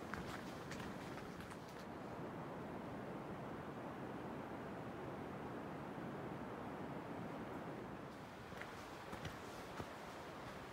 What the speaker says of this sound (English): You can hear the sound of the Thornton Creek.